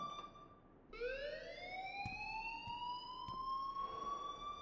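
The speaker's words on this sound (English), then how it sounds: "please turn off that alarm since that's your job" A fire alarm sounds in the video game Life is Strange as a loud, steady electronic tone that rises in pitch and then holds, with a few faint clicks and no voices.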